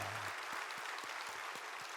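Congregation applause during a church worship service, a steady dense wash of clapping sustained throughout at moderate level with no voices over it.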